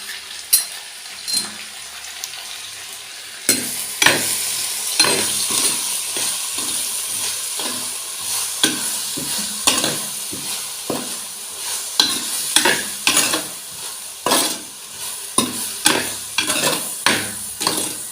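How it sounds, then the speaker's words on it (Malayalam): Onions with salt added fry in a pan, a steady sizzle carrying repeated sharp scrapes and clacks of stirring that start after a quiet opening and continue in an irregular rhythm, close and fairly loud, with no talking. "ഇതിലേക്ക് നമ്മൾ കുറച്ച് ഉപ്പിട്ട് നമ്മൾ ഉള്ളിയിലേക്ക് ഉപ്പ് ആഡ് ചെയ്തിട്ടുണ്ട്. ഇനി നമുക്ക് ഇളക്കാം."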